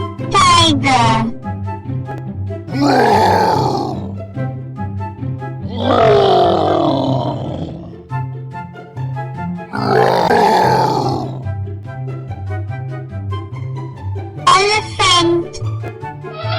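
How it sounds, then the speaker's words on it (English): Three deep, drawn-out tiger roars come a few seconds apart, loud and close, over a steady musical backing with short high tones at the start and end. "Tiger."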